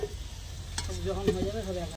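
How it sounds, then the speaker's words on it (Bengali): Soft sizzling of potatoes frying in a pan, with a few stirring scrapes and a faint voice in the background. "এখানে আলু ভাজাচ্ছে"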